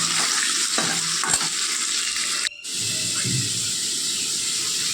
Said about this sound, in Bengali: কড়াইয়ে সর্ষের তেল দিয়েছি, তারপর দিলাম কালো জিরে, তারপর আলুর টুকরোগুলো দিয়ে দিলাম, দিয়ে ভাজা ভাজা হবে